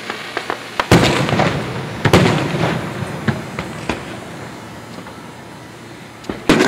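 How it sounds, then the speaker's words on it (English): Fireworks bursting over a Mets stadium, a run of sharp booms and crackling pops scattered irregularly over steady crowd-like background noise, with a few especially loud near blasts. "fireworks at Mets Stadium."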